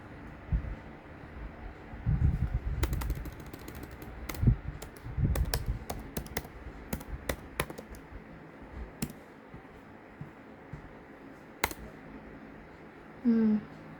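Computer keyboard used for shortcut keystrokes, scattered sharp key clicks in short bursts with gaps between them, close and clear over a faint background hum.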